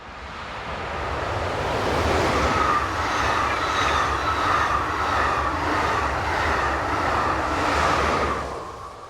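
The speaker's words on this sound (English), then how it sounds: "The train is formed with double-deck M6 coaching stock with loco number" A Belgian passenger train of double-deck M6 coaches, hauled by a locomotive, rumbles past at close range. The loud, steady roar of wheels and rails swells and then fades at the end, and no one speaks.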